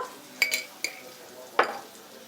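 Cumin and coriander are stirred into koshari tomato sauce in a pot, with a few distinct spoon clinks and scrapes against metal over a faint background.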